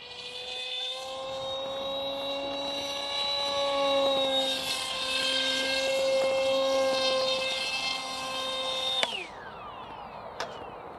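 A MODSTER Easy Trainer 1280 V2 electric RC airplane flies overhead, its motor a steady high whine that rises and falls with throttle, cutting off abruptly near the end before a faint fading buzz.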